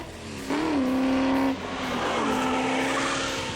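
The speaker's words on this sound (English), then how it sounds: "these tires still can't even begin to hang with the power this car is making under the hood" A COPO drag car launches with its tires losing traction, a loud engine roar that surges, holds, then drops and climbs again, its pitch rising and sliding with wheelspin, no voices.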